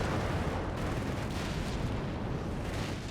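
Continuous rumbling battle din of artillery fire and explosions in the video game Company of Heroes 3, a dense, steady barrage of distant booms filling the whole stretch with no voices.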